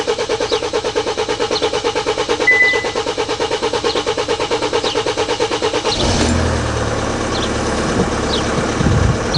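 A Hyundai Santa Fe diesel cranks with a rapid, even starter rhythm for several seconds, then fires and settles into a steady idle close by.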